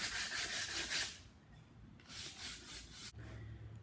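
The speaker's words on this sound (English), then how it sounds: "sand back and forth very, very lightly. I'm barely pressing hard at all." Light hand sanding on wood: soft, gritty back-and-forth strokes in a steady rhythm, close and quiet, with a brief pause between passes.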